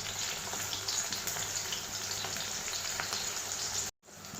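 Soybeans fry in hot oil until crunchy, giving a continuous soft sizzle with faint crackles, cut off by a brief silence near the end.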